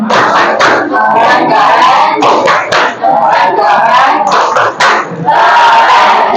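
Students in a classroom give group 3 a rhythmic cheer clap, shouting in unison between patterned claps, loud and close, in several chanted phrases with short gaps.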